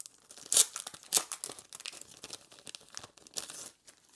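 Die-cut paper pieces for a handmade card being cut apart, giving close, crinkly rustles and a couple of sharper tearing snips with soft handling between them.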